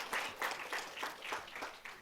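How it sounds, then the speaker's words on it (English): A conference audience claps for itself in a short round of applause, several pulses of clapping rising and falling at a moderate distance. "I think we should have a clap for ourselves today so that it awakens after the food"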